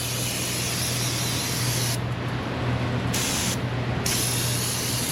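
Continuous loud hissing of an aerosol cleaner being sprayed on an oily, leaking engine, with two brief pauses between long bursts.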